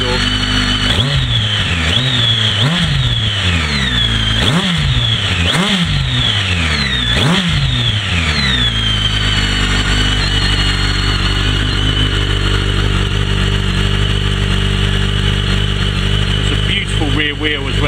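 BMW K1300S motorcycle with an Akrapovič exhaust revving hard, several sharp rising blips in quick succession before settling into a steady loud idle, close up.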